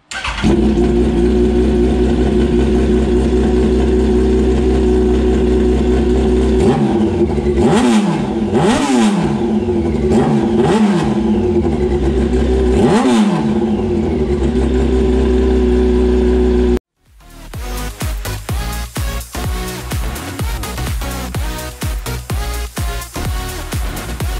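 A Yamaha R1 sport motorcycle engine with its exhaust baffles removed revs hard and raw, roaring up and down in repeated bursts, then cuts out briefly before a rough, crackling idle resumes.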